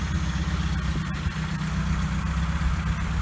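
A ZAZ Slavuta/Tavria car idling with a new, quieter Bosal exhaust, a steady low burbling engine hum heard close up and alone, without talk.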